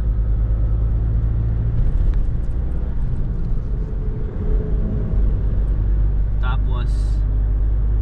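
Nissan Navara pickup, eight days old and still in its break-in period, cruising on a highway, with a steady close rumble of engine and tyre noise and a brief high squeak near the end.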